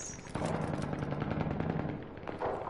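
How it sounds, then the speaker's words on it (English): Rapid gunfire in a video game, a dense burst of automatic shots rattling steadily for about two seconds, then a louder shot or two at the end, with no talk over it. "That's what your gunshot sounded like."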